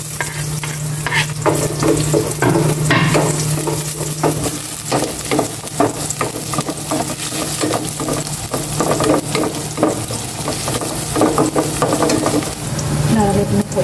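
Garlic and onion sauté in a hot pan, sizzling loudly and steadily up close while a utensil stirs and scrapes with a busy, irregular rhythm.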